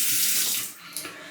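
Tap water runs steadily and close by as a straight razor is rinsed of heavy lather at a sink, the broad rushing flow easing slightly partway through with a couple of small splashes near the end.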